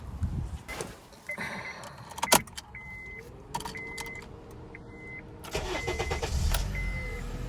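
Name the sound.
car engine starting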